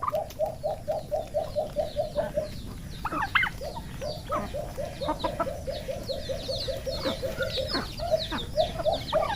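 A pet turkey gobbles in quick repeated bursts, a rapid rattling call that comes in several runs, close and clear over faint farmyard background.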